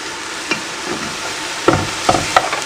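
Onions and grated garlic fry in a pan for spaghetti sauce, a soft close sizzle broken by a few sharp scrapes and taps of a utensil against the pan near the end.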